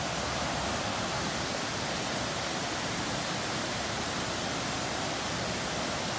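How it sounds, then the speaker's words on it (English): Waterfall on a creek, a constant broadband rush of falling water, loud and steady with no voices. "What I love about this waterfall"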